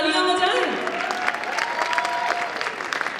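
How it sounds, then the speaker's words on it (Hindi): An event audience honoring Devaharam contributors keeps up loud, sustained applause, a dense crackle of many hands, while a voice carries over it at the start. "ये तालियों की आवाज बरकरार रखिए"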